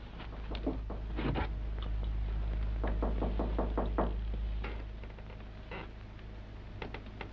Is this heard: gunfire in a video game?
no